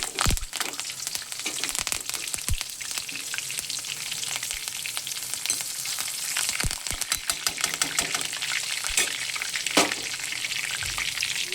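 Mustard seeds and curry leaves spluttering in hot oil for tempering a prawn and gongura curry, a loud, steady crackling sizzle with sharp pops throughout, heard close with no talking.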